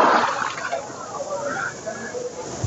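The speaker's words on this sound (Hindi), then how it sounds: "लगाते हैं डुबकी" A person ducks under cold, waist-deep water in Pushkar Lake in Rajasthan, with a brief slosh and splash at the start, then softer rippling water for a few seconds.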